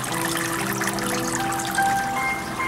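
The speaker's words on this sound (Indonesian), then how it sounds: "Ini penambahan air pancuran di sisi sebelah kiri" Shower spouts dribble and stream water into a tubifex worm culture tank layered with sponge and mud, an even, close trickle running throughout without speech.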